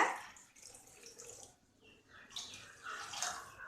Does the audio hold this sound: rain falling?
no